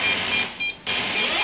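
A steady high electronic tone with a brief higher beep pattern and a short gap, an electronic meter beeping continuously up close in a women's pier bathroom.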